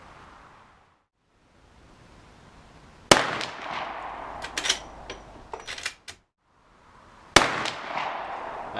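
Two sharp gunshots from a Rossi rifle firing test ammunition, about four seconds apart, each a loud crack followed by a ringing tail and scattered clatter, with quiet hiss between shots.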